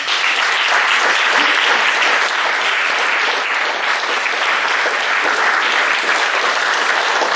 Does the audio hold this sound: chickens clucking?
no